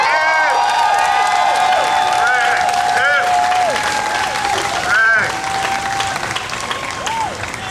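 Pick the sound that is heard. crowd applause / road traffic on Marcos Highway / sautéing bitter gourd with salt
crowd applause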